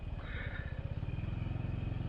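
A 2021 Sym Maxsym 400 scooter engine drones steadily while riding with traction control active, a continuous low throbbing hum with faint wind noise, fairly quiet and unbroken.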